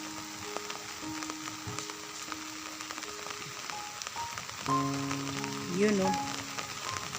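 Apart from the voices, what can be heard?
rain falling on lake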